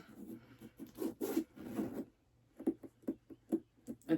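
A zipper on a Portland Leather Goods bag, sewn in the old way and prone to sticking, is pulled in uneven jerky rasps, close and soft, with a short pause midway before several catching strokes.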